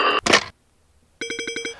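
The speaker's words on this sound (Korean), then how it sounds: "전화 받아라." A telephone rings in a psychological horror video game, a rapid electronic trill heard once near the end after a short burst of sound and a moment of silence.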